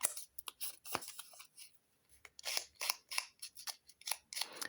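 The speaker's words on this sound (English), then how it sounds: "So I'm going to rough the edge up with a pair of scissors." A pair of scissors roughs up a paper edge with quick, quiet snips and crisp cuts in uneven bursts, close by, without speech.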